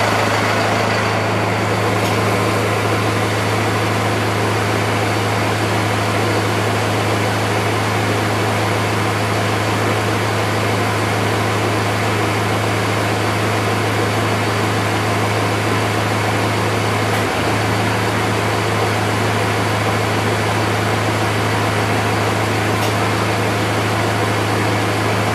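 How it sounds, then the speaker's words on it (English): Clutch-operated cooling fan on a Power Wagon with a Cummins engine, running during an AC test as a steady loud whirring drone over the idling engine, with a brief change partway through. "Now what I hear cycling right now is our fan."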